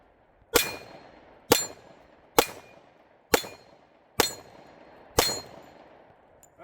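Six sharp metallic clangs from 10mm pistol rounds striking a swinging steel target, evenly spaced about a second apart, each ringing briefly and fading, heard at a distance with no talking.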